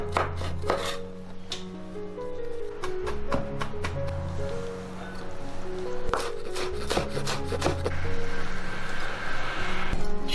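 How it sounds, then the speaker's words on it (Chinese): A knife chops ginger, garlic, scallion whites and cilantro into a fine mince on a cutting board in a home kitchen, with rapid, irregular blade strikes close by alongside a steady low background hum. "香菜都切成末"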